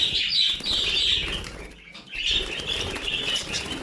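Breeding pairs of budgerigars flapping their wings in a cage, a busy fluttering rush with brief pauses, close by, accompanied by faint chirps.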